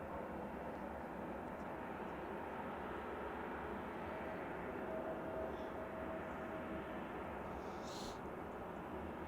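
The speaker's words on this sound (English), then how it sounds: "Just landed as an EasyJet from Geneva. Airbus A321neo." An EasyJet Airbus A321neo lands at a snowy Manchester Airport. Its engines make a broad, steady roar that comes from a distance and holds at an even level throughout.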